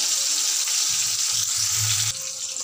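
Tomato pieces and ground cumin paste sauté in a hot pan, giving a steady close sizzle with a low bubbling burst midway, no talking.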